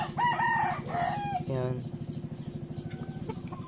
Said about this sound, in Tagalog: ito naman yung tandang ko na labuyo